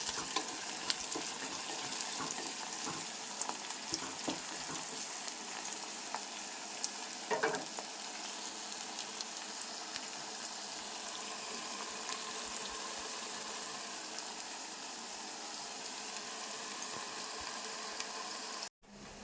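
Onions sautéing in a pan for a village-style tamarind leaf and onion curry, a steady soft sizzle and frying hiss running close and continuous, with occasional stirring clinks and no talk.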